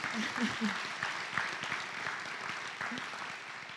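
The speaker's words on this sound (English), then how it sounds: "Graham, yes, applaud Graham" Audience applause at a high school special recognition awards night: a steady wash of many hands clapping, fairly faint and distant, with a presenter's voice speaking over it.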